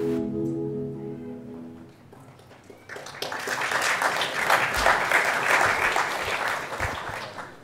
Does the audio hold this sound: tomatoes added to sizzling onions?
no